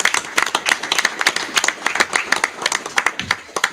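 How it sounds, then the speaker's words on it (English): An audience applauds coaches at a school board meeting, close and fairly loud, with individual sharp claps standing out in an uneven rhythm through a few seconds of clapping. "I think you coaches, they deserve another applause"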